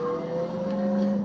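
A Citroën Xsara rally car engine in WRC Generations drones loudly and steadily at high revs, a strong tonal whine holding pitch as the car passes close by.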